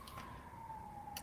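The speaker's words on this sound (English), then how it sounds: "it's not police cars. It's fire trucks." Fire truck sirens wail downtown, with a steady, slightly falling tone that carries from a distance, faint against a low background rumble, with no talk.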